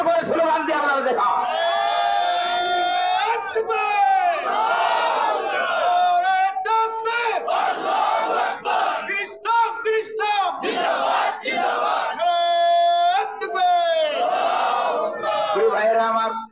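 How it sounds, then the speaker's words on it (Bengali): A large crowd shouts slogans in unison with hands raised, loud, massed voices rising and falling in rhythmic chanted bursts, with a leader's voice calling out between the responses at a religious gathering. "তো হাত উঁচু করে স্লোগান দিয়ে আপনারা দেখা"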